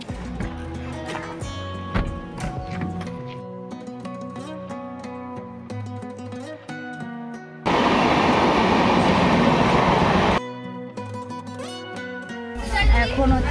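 A train at a railway station in North Bengal, rumbling and clattering with music playing over it, a loud steady roar of a passing train in the middle, then clanking again.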